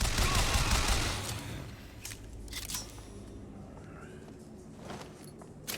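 Gunfire in the shooter Bioshock Infinite: a dense burst of shots up front, then scattered sharp bangs and cracks spread through the rest, loud and close with game ambience between.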